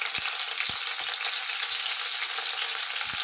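Green chillies fry in hot oil with a steady, close hiss of sizzling and a few soft knocks from the pan or utensil.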